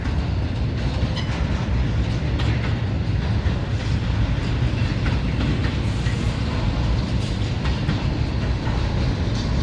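A southbound freight train with LNG locomotives rolls steadily past near Jacksonville, Florida, its wagons rumbling close and loud with faint clickety-clack and brief high wheel squeals.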